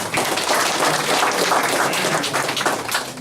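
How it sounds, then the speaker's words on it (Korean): Steady crowd applause fills an entrance ceremony at a senior citizens' college, welcoming a speaker with dense, continuous clapping that holds loud throughout. "박수로 환영합시다"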